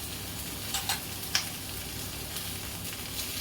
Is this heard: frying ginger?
yes